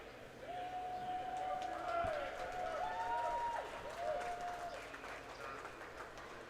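Crowd noise at a high school swimming championship, a broad continuous roar of cheering and clapping in an echoing pool hall, with a faint whistle-like tone weaving through and indistinct voices underneath.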